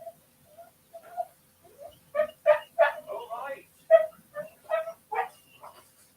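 A dog begging for a treat gives high, thin whimpers and short yips, rising into an insistent run of squeaky cries and small barks, close by with no other sound.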